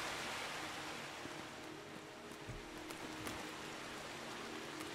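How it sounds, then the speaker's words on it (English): The steady, rushing roar of a video game waterfall in Lens Island, an unbroken wash of water noise at a moderate level. "Those waterfalls are extremely loud."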